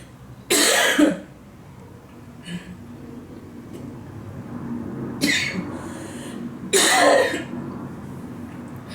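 Three sharp, harsh coughs close to the mic, separated by pauses, with a softer throat sound in between and no speech.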